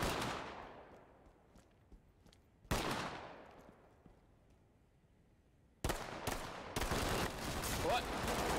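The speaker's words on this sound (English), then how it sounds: "I think they're shooting through the metal." Gunfire through metal in Ready or Not, a few sharp, loud reports with long decaying tails, then a dense burst of rapid shots near the end.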